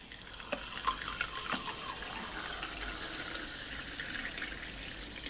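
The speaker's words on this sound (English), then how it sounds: "Put the sparkling water into the glass." Sparkling water runs into a glass with a soft, continuous hiss and trickle, a few small clinks early on, fairly quiet and close, with no talking.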